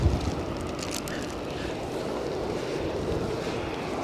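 Strong gusting wind buffets the microphone during Storm Floris at Edinburgh Airport, a steady broadband roar with no speech, loud and constant throughout.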